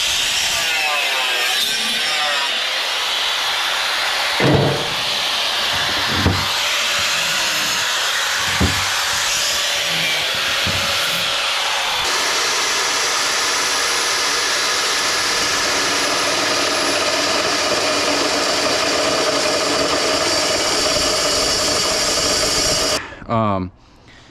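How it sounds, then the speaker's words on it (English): A saw blade grinds through a wide face of stainless steel scrap, a continuous harsh rasp with a few sharp knocks early on, a steadier, brighter cutting tone in the second half, then an abrupt stop near the end. "I'm trying to cut that big wide face, putting a lot of drag on that blade."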